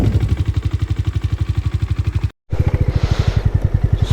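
A motorcycle on a ride to Ladakh idles to warm up after an engine check light, its loud, steady, rapid thumping close by, briefly cut out once, with no talk.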